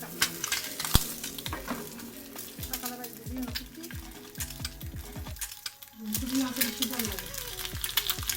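An egg frying in a pan for a young son's breakfast crackles and sizzles softly, with spatula scrapes and clinks under a speaking voice and background music.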